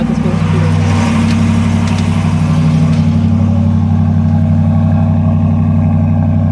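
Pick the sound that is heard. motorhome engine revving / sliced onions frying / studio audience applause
motorhome engine revving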